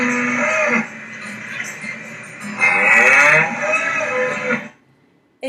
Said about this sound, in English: It's the cow.